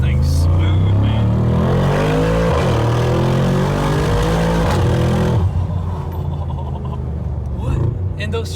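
A 2022 Mercedes G63 G Wagon being rebuilt after a wreck rolls over very bumpy town roads, its steady low engine drone continuous and close, with shifts and jolts breaking in, while people talk over it.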